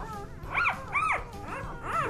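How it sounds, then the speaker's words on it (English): Newborn puppies give three or four thin, rising-and-falling whimpers in quick succession, close and fairly soft, over a faint background hum. "There's a bunch of puppies."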